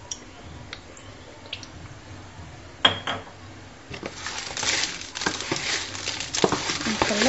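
Dough for Moroccan mjabna, with salt, fenugreek and oil, is worked by hand in a bowl: a few light taps and clinks at first, then wet squishing and patting that grows louder and busier, close by.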